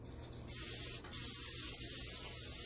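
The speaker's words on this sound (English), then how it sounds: "I'm just going to spray this pan with the butter spray" Butter-flavored cooking spray hisses from a can onto a pan in two close bursts, a short spritz followed by a longer steady spray, loud and near.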